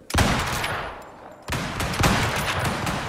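Video-game gunfire in Icarus as bullets strike a mammoth, two loud, close bursts of rapid automatic fire, the first trailing off before the second cuts in at full volume.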